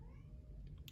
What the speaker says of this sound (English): I'm sorry if you hear my cat